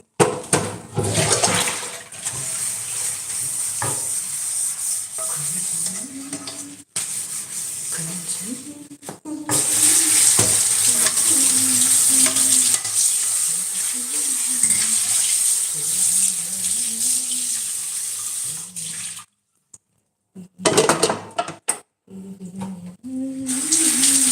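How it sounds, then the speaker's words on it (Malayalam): Dishes being washed under running water, a steady hiss of the tap with rubbing and scrubbing, broken by short pauses, while a voice talks or hums over it. "പാത്രങ്ങളൊക്കെ കഴുകിക്കൊണ്ടിരിക്കുകയാണ്"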